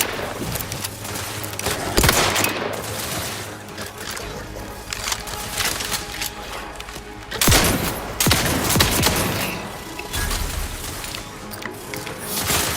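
Dense gunfire from The Outer Worlds 2 combat, with loud overlapping volleys and bursts sustained throughout, heavy spikes around a few moments amid crashes and mechanical clatter, with a brief voice line mixed in.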